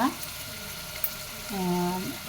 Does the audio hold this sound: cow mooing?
no